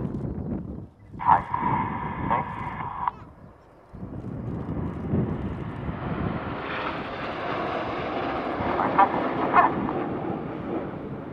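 Red Arrows BAE Systems Hawk jet trainers fly in formation at an air show, a broad distant jet roar swelling and holding, briefly dipping mid-way, with a short tonal whine near the start.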